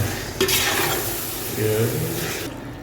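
Beef cooking in a pot for Tamil Nadu style village biryani, a loud continuous sizzle with stirring scrapes and clinks of a utensil against the pot, close up with no speech.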